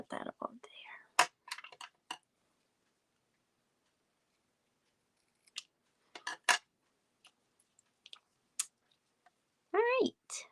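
Scissors snipping paper for a handmade folded card project, a few sparse crisp cuts and clicks close up in a quiet room, with soft speech at the start and end.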